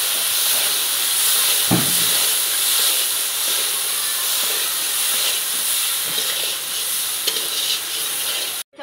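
Pre-fried soybean chunks hit hot oil with spices in a pan, and a loud, continuous sizzle and hiss follows, with a soft stirring knock near the start and no talking.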